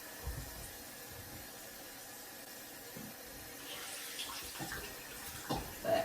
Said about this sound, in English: I'm putting some more water on this thing.